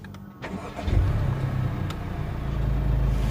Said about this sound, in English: If you want to be doubly sure, put the clutch in as well, and then start the car.